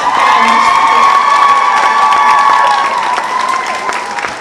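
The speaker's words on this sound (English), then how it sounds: "Ladies and gentlemen, please put your hands together for Aileen Walls." An audience at a pageant evening in Hamilton applauds and cheers loudly, with sustained clapping, whoops and shouts close by, easing off slightly toward the end.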